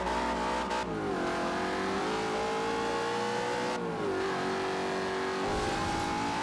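A Mustang in Forza Horizon 2 races hard through curves, its engine holding a loud, steady high-revving drone that dips and climbs with gear shifts and throttle changes, with no talk over it.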